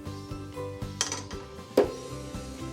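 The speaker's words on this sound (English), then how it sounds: "Then, place the noodles onto a plate." Pan-fried yakisoba noodles, browned golden on both sides, are set onto a plate with a couple of sharp clinks of utensil against dishware, under soft background music.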